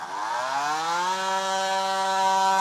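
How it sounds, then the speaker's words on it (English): A power tool trims the plastic bumper of a 2013 Mini Cooper during a base plate installation, giving a close, steady whine that climbs in pitch as the blade spins up, with no voices. "So we'll start by getting this portion trimmed off."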